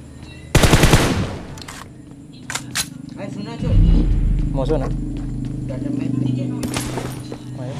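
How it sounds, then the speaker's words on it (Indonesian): Bursts of automatic gunfire in the PUBG Mobile battle royale game, a loud close burst near the start and another near the end, with a rumbling vehicle-like drone and casual player talk in between. "Oh, ditembak kita."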